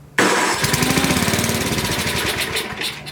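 A cheap used snow blower engine catches after a pull and runs loud and close, a rough rapid chugging firing rhythm that holds steady throughout.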